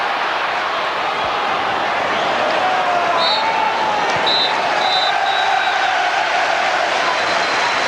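Football crowd at a Leeds United v Wolves FA Cup quarter-final, a steady roar of noise with scattered claps and shouts held at an even level throughout, with no distinct peaks.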